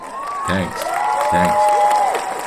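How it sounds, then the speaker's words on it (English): Crowd applause and cheering burst out, loud and close, with a short spoken word over it. "I think I deserve an applause."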